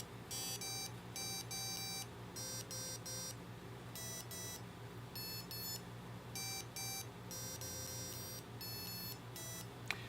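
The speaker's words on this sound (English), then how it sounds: "it tried to play them at the same time, which caused the speaker to make a lower, weird buzz sound" Small electronic speaker on a Metro Matrix Clock board emits repeated bursts of harsh, buzzy beeping as two tones play at once, an irregular electronic pattern over a steady low hum.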